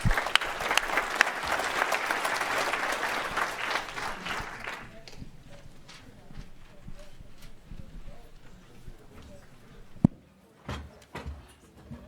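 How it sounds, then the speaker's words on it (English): An audience at a hydrocarbon industry conference claps after a talk, a burst of dense applause for about five seconds that fades into room murmur, shuffling and scattered knocks as people start talking. "Let's give him a round of applause."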